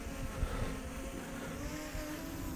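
A Yuneec Mantis Q drone flying outdoors in wind, giving a steady motor whine with a faint rising and falling pitch under gusty wind rumble on the microphone.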